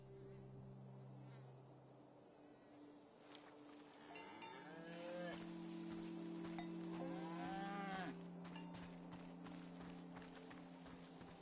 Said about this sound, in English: A beautiful cow named Gorp.